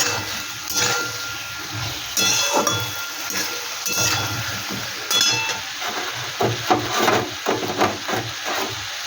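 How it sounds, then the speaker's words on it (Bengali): Chilli jackfruit being stirred with chilli sauce in a pan, giving a steady run of close, busy scraping, clinking and wet rustling that carries on throughout. "এবার আমি চিলি সসটা দিয়ে একটু ভালো করে নাড়াচাড়া করে নিই।"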